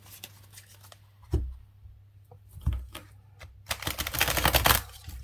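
A tarot deck is shuffled by hand, a few isolated card taps and flicks giving way to a dense, close riffling flutter near the end, quiet and without speech.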